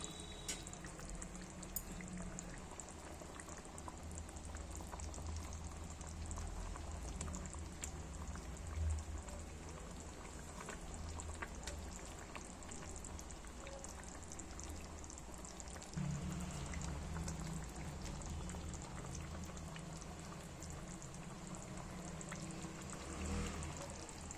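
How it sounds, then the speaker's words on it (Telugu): A curry of cowpeas, field beans and drumstick pods simmers on a low flame, giving a faint, steady bubbling patter that continues quietly and evenly with no voices. "కొద్దిసేపు ఇవి సిమ్లో పెట్టి కొద్దిసేపు ఉడికించుకుందాం. సిమ్లో, లో ఫ్లేమ్లో."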